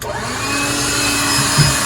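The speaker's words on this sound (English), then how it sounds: "Okay, vacuum cleaner, I guess." A vacuum cleaner runs steadily aboard a sailboat during engine-room work, a close, loud whine with a constant motor drone and no talking.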